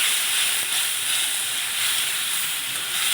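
Spice paste simmering in a pan after water is added for a bottle gourd kofta curry, giving a steady, close, unbroken steamy hiss and sizzle that holds even in level throughout with no talking.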